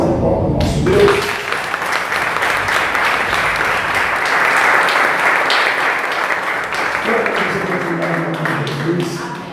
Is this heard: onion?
no